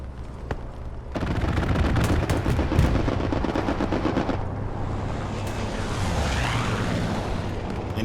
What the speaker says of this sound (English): you can hear the popping off of that grease gun.